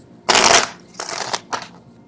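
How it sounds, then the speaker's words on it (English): Tarot cards are shuffled in three close, crisp riffling bursts, the first longest and loudest, each followed by quiet. "see the card shuffle live"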